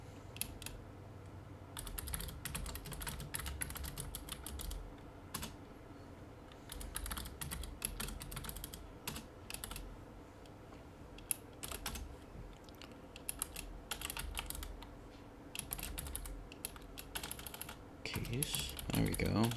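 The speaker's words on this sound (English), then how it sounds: "I just cannot type today." Fast, irregular typing on a computer keyboard, with dense clusters of close key clicks and brief pauses between bursts, continuing for the whole stretch.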